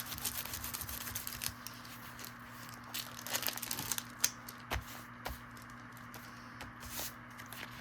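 Tissue is pressed through plastic packaging, giving soft, irregular crinkles and crackles with occasional sharper taps over a faint steady hum, close and quiet with no speech.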